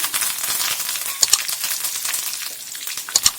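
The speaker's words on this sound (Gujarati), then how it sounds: "રાઈ ને જીરું આપણા સંતળાય પછી તેની અંદર આપણે મીઠા લીમડાના પાન લીધા છે તે અંદર એડ કરીશું" Mustard seeds, cumin and curry leaves sizzle steadily in hot oil, a close, dense hiss with scattered sharp pops and crackles from the seeds.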